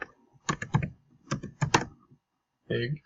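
Quick clusters of keystrokes on a computer keyboard come in short bursts separated by pauses. The typing is close and crisp against a quiet background.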